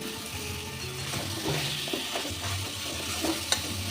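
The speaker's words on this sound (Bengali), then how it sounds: "ওলকপিটা দিয়েও আর একটু কষিয়ে নেব সঙ্গে দিয়ে দিচ্ছি ভেজে রাখা আলু" Fried kohlrabi and potatoes are stir-fried in hot oil, with scraping strokes of a spatula over a steady sizzle and an occasional sharp clink against the pan.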